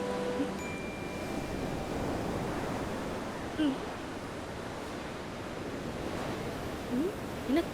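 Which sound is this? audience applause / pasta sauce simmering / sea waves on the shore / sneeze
sea waves on the shore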